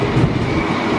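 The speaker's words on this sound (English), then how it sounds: "Here comes the train, Meg." A train pulls into a station platform in Munich, a steady loud rumble of wheels and carriages rolling close by, with no voices over it.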